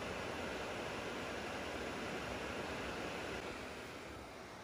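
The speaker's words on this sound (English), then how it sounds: "the best thing is the views and the sound of the creek" A creek flows steadily beside a riverside cabin, its water making a dense, even rushing hiss that stays constant throughout with no voices.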